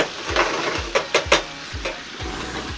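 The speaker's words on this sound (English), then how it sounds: "our fish is cooking up nicely there" Fish fries in marinade in a hot pan, giving a steady close sizzle. A few sharper crackles and spatters rise above it, along with repeated low thumps.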